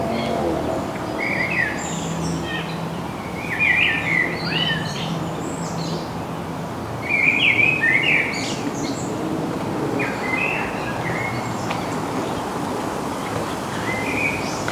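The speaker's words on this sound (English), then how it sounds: "birds singing." Birds sing on a summer day in Chichester, England: bright chirps and short warbled phrases come in scattered bursts, moderately distant, over a steady outdoor hum of wind and faraway traffic, with no talking.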